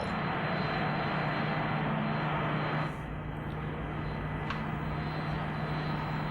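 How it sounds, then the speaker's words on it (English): A science-fiction orbit jet landing in a 1950s space-adventure film gives off a steady, loud jet-engine roar that fills the whole stretch and eases slightly partway through. "orbit jet is in the process of landing"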